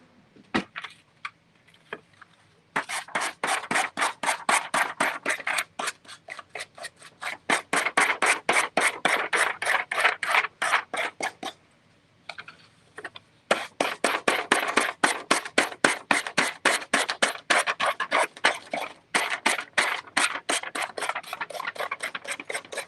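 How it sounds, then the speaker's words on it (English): Sandpaper rasps off excess material on a Dollar Tree carrot craft in quick, rhythmic back-and-forth strokes. The bursts are close and crisp, broken by a few short pauses, with no talking. "And then we're just going to sand off the excess."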